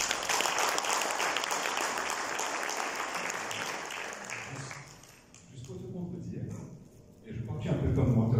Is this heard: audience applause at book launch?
yes